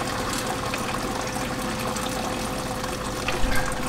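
Sparge water is pumped through a home brewing system, making a steady, continuous rush of flowing liquid close by that stays even throughout with a slight surge near the end.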